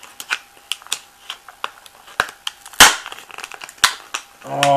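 Sharp snips and crackling plastic clicks scattered irregularly, with a loud crunch midway, as scissors hack through a stiff clamshell package close by.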